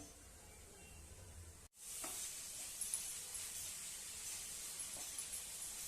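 Black-eyed peas (chavli) fry in a pan with a soft, steady sizzle and hiss that starts after a brief break and continues evenly, faint and close.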